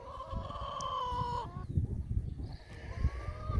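A flock of hens clucks and calls close by, with a drawn-out tonal call at the start that breaks off into busy overlapping clucks over a gusty, breezy rumble.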